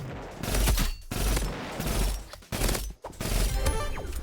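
Loud, rapid bursts of gunfire from a random weapon in the video game Roblox Rivals, with several dense volleys broken by short pauses.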